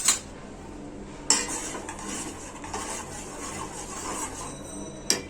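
A spoon stirs sugar into tea in a cup, giving soft scraping and swirling sounds between a few sharp clinks of metal on the cup's rim, close and quiet, without talk.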